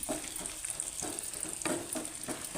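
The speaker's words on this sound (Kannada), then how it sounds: "ಎಲ್ಲ ಚೆನ್ನಾಗಿ ಫ್ರೈ ಮಾಡ್ಕೊಳ್ಳಿ" Lentils and dry chillies crackle and sizzle steadily in oil close up, with a few soft stirring scrapes breaking through the frying.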